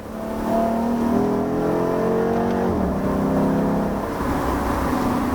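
A 2009 Dodge Challenger R/T engine hums smooth and steady from inside the car while driving, a low even drone with the pitch rising gently and then dropping once as it shifts, no talking.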